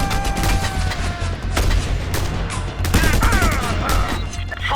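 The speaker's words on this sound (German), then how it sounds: "Vorsicht, Genosse. Das sind Überwachungsgeschütze." Surveillance gun turrets in Just Cause 2 let off a dense, continuous fusillade of rapid gunfire with heavy low booms. The din is loud and sustained, and bursts of louder shots cut through it.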